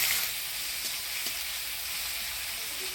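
Green chilli, black cumin and tomato fry in a tempering for doi bhendi, giving a short, even, close sizzle with a couple of faint stirring taps.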